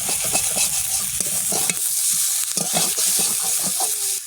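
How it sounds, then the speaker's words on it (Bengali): Spice paste frying in a pan for a fish curry made with lentil dumplings, a loud, continuous sizzle broken by frequent scraping and stirring strokes, close by, with no one talking. "মশলাটা ভেজে যাবে"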